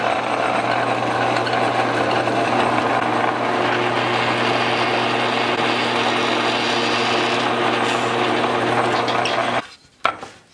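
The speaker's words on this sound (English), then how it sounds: "I'm going to hog out the bulk of the waste with my super high-end drill press here." A steady, loud mechanical whir with grinding as a drill press bores into wood to clear out waste, running continuously before cutting off near the end.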